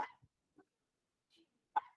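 A small pet dog barks indoors in a few short, sharp yaps spread across a quiet room, fairly faint with gaps of silence between them.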